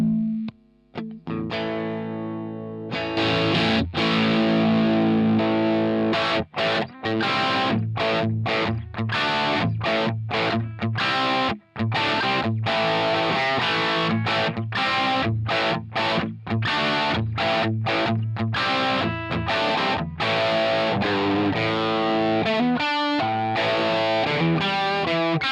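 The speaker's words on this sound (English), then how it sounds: "So let's just go for a kind of crunch sound." Crunchy distorted electric guitar through Line 6 Helix Native, drive turned down and master on full, plays chords and riffs, loud and continuous after a brief quiet start, with short choppy pauses between strums.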